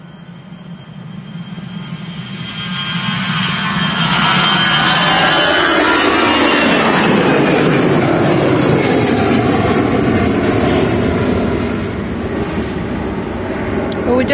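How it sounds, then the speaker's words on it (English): EasyJet Airbus A320 jet airliner bound for Amsterdam, a loud, continuous jet engine roar that swells and sweeps in pitch as it passes close by, then eases slightly toward the end. "this is the EasyJet to Amsterdam. It's an A320."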